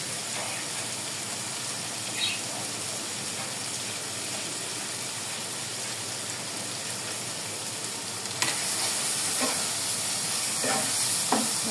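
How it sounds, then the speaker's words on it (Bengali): Dried lotia shutki fish frying with coriander leaves in a pan gives off a steady broadband sizzle and hiss, with occasional scraping knocks from stirring toward the end. "এবার কিছুক্ষণ লাড়বেন।"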